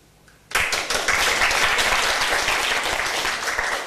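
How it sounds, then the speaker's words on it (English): After a quiet moment, an audience at a Robin Hood show bursts into clapping that starts abruptly and stays loud and dense, hands slapping fast and close together until the end. "gentle clapping."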